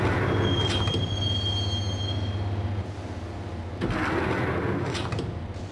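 Train ride in the video game Max Payne: steady rolling rumble of a subway car with a thin high wheel squeal early on and rattling clanks near the end, continuous and close.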